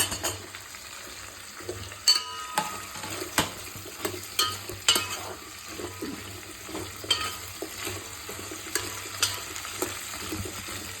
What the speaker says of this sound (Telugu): ఇప్పుడు మునక్కాయలు వేసుకోవాలండి గుమ్మడికాయ కూడా